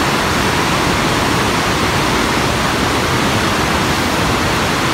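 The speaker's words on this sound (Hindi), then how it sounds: "ये देखिए कितनी तेज़ी से पानी जा रहा है" A village stream in flood rushes past fast and loud, an unbroken close roar of churning water with no voices.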